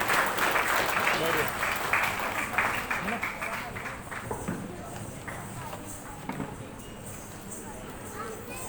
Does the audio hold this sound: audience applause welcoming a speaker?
yes